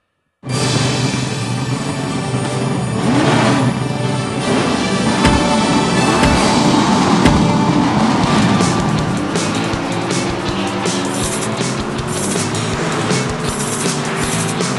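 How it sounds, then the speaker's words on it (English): A loud, continuous car engine in the Cars: Lightning League mobile racing game roars and revs at high speed with racing-style whine and occasional tire noise, steady and close throughout. "Get that engine revving!"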